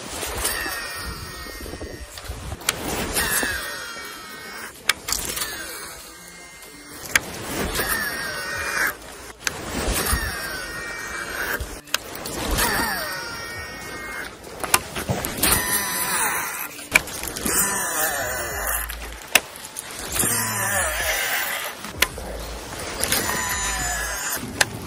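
A baitcasting reel with a DC brake whirs and whines on repeated casts from the bank of a small pond in winter, about eight short rising whines spaced a few seconds apart, with faint handling noise between them.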